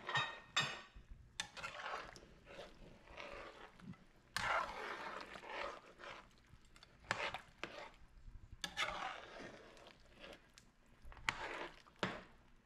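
Seasoned oxtail with carrot, onion, green and red pepper and scallion being stirred in a pot, producing scraping, clanking and wet squishing sounds in irregular bursts, close but fairly soft, with no talking.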